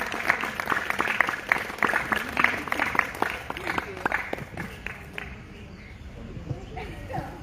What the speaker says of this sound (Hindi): तालियां जोरदार मोना के लिए।